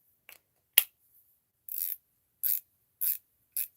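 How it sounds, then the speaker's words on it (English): A ratcheting screwdriver fitted with a pipe vise ratcheting adapter gives a couple of sharp clicks, then four short, evenly spaced bursts of ratcheting, close and crisp against silence. "I even created a ratcheting version. So this uses a pipe vise ratcheting adapter."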